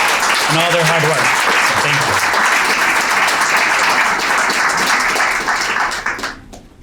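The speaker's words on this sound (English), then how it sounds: "Can we start off by giving our MEDC team a round of applause for putting this together" Sustained audience applause from a crowd at a corporate founder's reception for an economic development corporation, loud and steady for about six seconds before tapering off, with a brief voice at the start.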